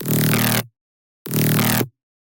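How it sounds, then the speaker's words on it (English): A plain saw wave synth tone, bright and buzzy, played as two identical short notes about half a second each with a gap of silence between, close and dry. "it just sounds like a normal saw wave."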